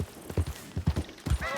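Horse hooves clip-clop in Red Dead Redemption 2, a close, uneven run of soft thuds on the ground, ending in a short whinny.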